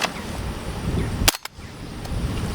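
A single sharp, close report from a suppressed gunshot through a B&T Print X SD suppressor fitted with a vented end cap. A brief smaller crack follows, with quiet background around it.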